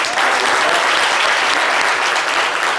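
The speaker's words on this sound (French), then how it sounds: "On va l'applaudir pour l'encourager, les amis." A live studio audience on a French-language talk show breaks into loud, dense applause that holds steady and close throughout.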